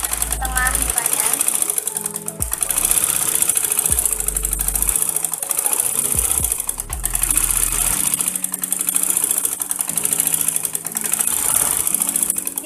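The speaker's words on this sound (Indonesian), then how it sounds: "Langsung saja kita jahit bagian tengah mukanya." A sewing machine stitches a songket skirt, its needle chattering in steady loud bursts that stop and restart several times, with brief pauses between runs.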